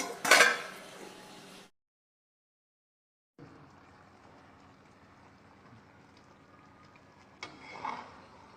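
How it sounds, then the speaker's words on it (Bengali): A lid set on a cooking pot holding palak chicken curry, with a sharp metallic clatter at the start, silence, then a soft low hum and a second brief clink near the end. "মিনিট 2-এর জন্য আমি ঢাকা দিচ্ছি"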